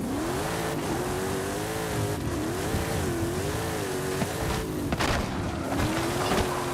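Ford F100 pickup with a naturally aspirated big block engine in Forza Horizon 5, revving in a loud, rumbling rise-and-fall pattern, engine pitch wavering up and down repeatedly with a few sharp pops near the end.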